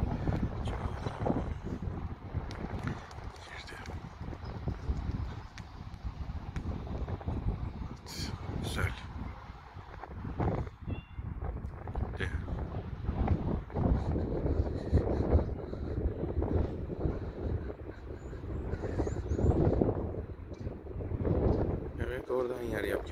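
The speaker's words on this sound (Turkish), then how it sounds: "Ne rüzgar var be." Strong wind buffets an outdoor microphone in steady, rumbling gusts near a rooftop pigeon loft, continuing throughout while someone talks over it.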